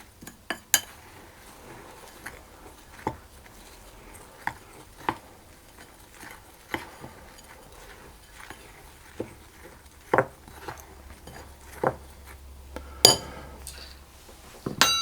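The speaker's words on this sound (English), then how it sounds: "Then I'll add the oats and stir those through as well." Oats are stirred into flour in a bowl, heard as a quiet scrape with scattered sharp clinks of a utensil against the bowl, irregular and close, with no talking.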